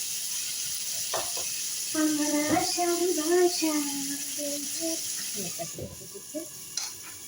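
Spices and food being stirred in a hot pan, a steady frying sizzle with scraping stir strokes, while a voice speaks over it in the middle.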